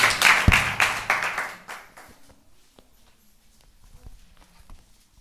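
A Tamil Christian congregation claps hands together, a loud burst of rapid clapping lasting under two seconds that fades, followed by scattered faint taps.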